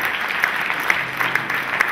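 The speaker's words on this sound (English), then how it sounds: "Give them a round of applause." Audience applause for a band at an entertainer-of-the-year awards event, a dense, continuous wash of clapping with a few sharper claps standing out, filling the room alone without talk.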